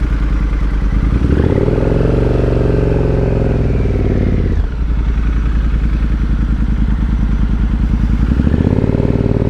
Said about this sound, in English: We're going to take the Triumph for a little spin around the parking lot.